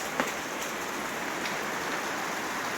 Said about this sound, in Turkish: Şarıl şarıl yağıyor.